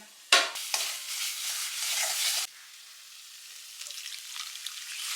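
Coconut prawn masala with spices sautés in a pan, giving a loud opening clatter and then a busy close sizzle with stirring. The sizzle drops abruptly to a faint crackle with occasional soft scrapes, and no one speaks.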